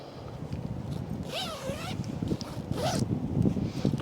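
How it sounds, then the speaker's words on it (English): A zipper on a Swagman Roll is pulled open in two quick rasping strokes, close and moderately loud, over rustling fabric and outdoor background noise. "And I'm going to unzip it."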